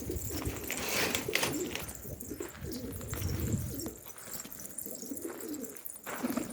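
A red Orlanda pigeon let out outdoors among other birds, with soft cooing and scattered chirps over steady outdoor ambience and some rustling, moderately near.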